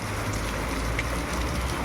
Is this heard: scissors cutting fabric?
no